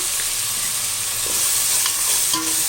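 Chopped onions and tomatoes with a little salt sauté in a pan for a chicken dum biryani, giving a steady close sizzle with a few light spoon clinks.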